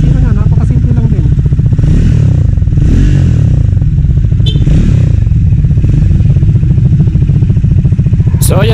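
A 2024 Triumph Speed 400 motorcycle rides steadily on an expressway test ride, its engine droning loud and close with constant road and wind roar, a few brief clatters and a short voice shout over it.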